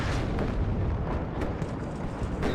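Cluster artillery striking in the wargame WARNO, a dense rumbling barrage of overlapping booms and bursts, steady and heavy throughout.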